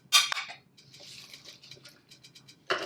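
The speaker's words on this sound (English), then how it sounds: "we're gonna cut our green onion just to get rid of the ends" A knife strikes a cutting board while roughly chopping green onion, giving a few loud close thunks at the start and end with quieter rapid taps in between, and no talking.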